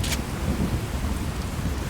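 A thunderstorm in Fallout 4 rumbles low and continuously under a steady wash of rain, with one brief sharp crackle at the start.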